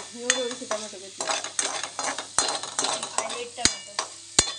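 Tomatoes frying in a pan for Maggi noodles, a steady sizzle broken by repeated scraping stirs and sharp metallic clinks of a spoon against the pan, close and fairly loud, with a voice occasionally heard.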